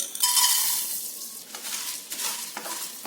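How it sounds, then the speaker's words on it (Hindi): Edible gum (gond) roasting in a pan over low to medium flame, a close, bright sizzle with steady stirring scrapes running throughout. "इसे इस तरह से लगातार चलाते हुए हम भूनेंगे, तो थोड़ी देर में हमारी जो गोंद है ये फूलनी शुरू हो जाएगी।"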